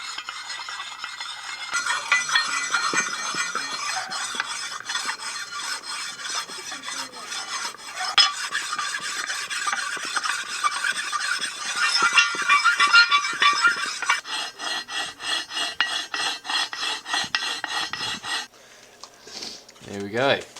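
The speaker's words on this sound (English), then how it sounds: "Just using the whetstone, 400 grit and then 1000 to try and smooth out all the sliding edges." Rhythmic rasping strokes of a 400 and then 1000 grit whetstone working the sliding edges of a Fortis bench vice, a steady back-and-forth scrape that continues close and clear throughout.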